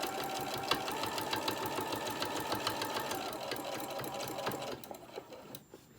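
Sewing machine stitching straight across a small tote bag with pockets, a steady rapid needle clatter running continuously up close before slowing and stopping near the end.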